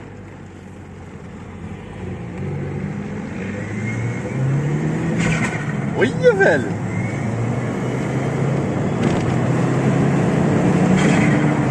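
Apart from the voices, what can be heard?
Audi A3 turbo car accelerating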